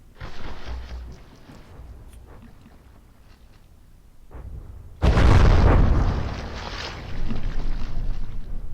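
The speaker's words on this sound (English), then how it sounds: "That's ammunition gone up." Ship ammunition detonates in the naval combat game From the Depths during an Atlantic battleship fight: one sudden heavy boom bursts out midway and is followed by a sustained rumbling roar, after quieter rushing battle noise before it, with no talking.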